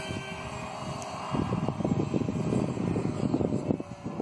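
An RC microlight model aircraft, an MIA EZ 1.25 weight-shift model, flies in gusty wind, its small motor buzzing steadily at mid distance, growing louder and rougher partway through with fluttering wind noise.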